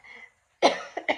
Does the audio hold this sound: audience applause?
no